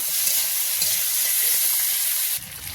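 Potato, kohlrabi and tomato fry with ginger-cumin paste in a pan, giving a steady, close sizzle that holds evenly throughout and softens slightly near the end.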